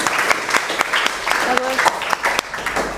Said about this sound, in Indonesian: Beri tepuk tangan buat kita semua hari ini.